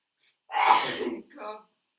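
A single close sneeze, a sharp burst followed by a softer tail, with quiet before and after.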